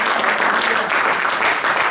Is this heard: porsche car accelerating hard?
no